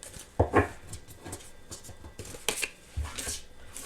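A tarot card is drawn from the deck, making a brief papery snap and slide among soft handling rustles and flicks, close and moderately quiet, with no talk.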